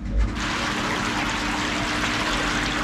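A garden hot tub spa's water massage jets churning and mixing freshly added water with the old, a loud, steady rushing and bubbling close by, continuous throughout with no talking.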